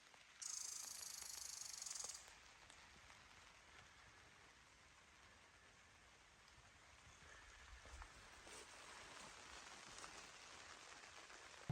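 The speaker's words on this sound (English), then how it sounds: "We got a little bit heavier of rain now" Light rain falling around a car parked in the northern Minnesota woods, a soft continuous hiss with scattered patters, after a brief bright electronic tone at the start.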